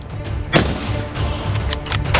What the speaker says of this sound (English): A gunshot rings out and a black bear falls.